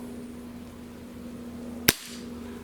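A single sharp crack from a Webley MKVI 4.5 mm CO2 air pistol, fired once over a chronograph, stands out near and loud against a steady low hum, with no talking.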